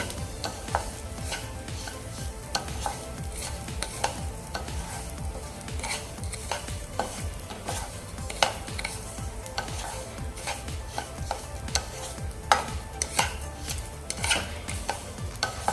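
Lapshi rava (broken wheat) dry-roasted in a pan, with frequent quick scraping stirs and light metallic clicks of the spoon over a soft steady sizzle, close and continuous, no speech.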